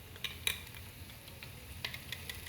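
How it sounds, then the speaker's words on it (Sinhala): Spoon scraping and clinking in a pan while tomato paste sauce for pasta is stirred, with sparse metallic taps and scrapes over a faint low simmer; quiet and close, no voices. "මේකට දාලා මේ ඔක්කොම හොඳට කලවම් කරලා ටිකක් වෙලා මේ ටික හොඳට තැම්බෙනකන් වහලා තියනවා"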